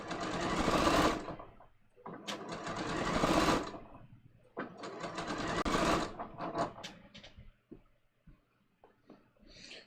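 A sewing machine stitches through a facing and seam allowances in bursts, running loud for a second or two, stopping, then starting again at close range with no speech.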